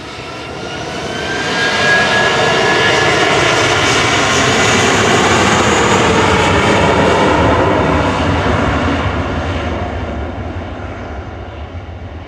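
An airliner departing Manchester Airport for Heathrow roars past with a loud, sustained jet-engine rumble that swells, holds and slowly fades as it climbs away, with no voices.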